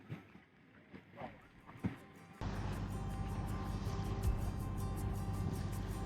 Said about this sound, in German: Na gut, wir haben jetzt doch den Motor angemacht.